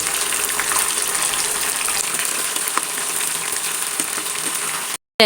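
Mackerel pieces frying in a pan of hot oil, a steady broadband sizzle with crackling pops throughout, close and loud, cutting out briefly near the end.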